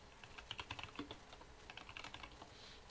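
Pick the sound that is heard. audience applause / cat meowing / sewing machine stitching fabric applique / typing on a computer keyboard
typing on a computer keyboard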